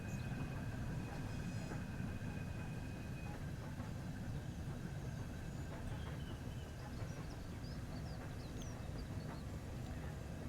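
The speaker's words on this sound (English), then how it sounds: "Inside a steam train." A steam train in the Train Sim World 3 video game on the Glossop line rumbles steadily from inside the cab, with faint metallic squeals and clanks over the continuous low roar.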